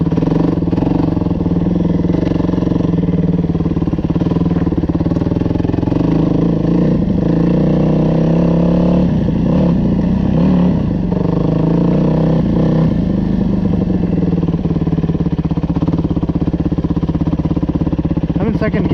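A Yamaha WR250F dirt bike ridden through snow in second gear, the engine droning loud and steady with slight rises in pitch, close to the rider, with a voice talking over it at times.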